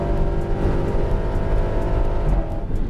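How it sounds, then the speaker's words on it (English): A 2019 Dodge Challenger R/T Scat Pack accelerates hard down a race track straightaway, its engine a loud, steady, full-throttle roar that holds for the whole stretch, with no talk over it. "Coming out onto the straightaway, hard on the gas here."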